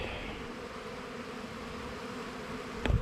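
Honeybees at a beehive hum in a steady, faint drone throughout, with a brief louder knock or rustle near the end and no talking.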